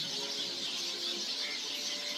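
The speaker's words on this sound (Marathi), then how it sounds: "चिमण्यांचा आवाज किती छान येतोय बघा चिवचिव चिवचिव करून सगळं" Sparrows chirping in a village setting, a dense continuous twittering chorus at a fairly steady level, no talk.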